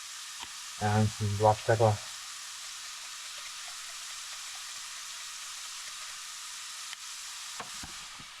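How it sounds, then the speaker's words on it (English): Onion sizzles steadily in hot olive oil in a pan, a soft continuous frying hiss that runs alone after someone speaks briefly at the start. "So I've thrown the onion in there, that's sauteing"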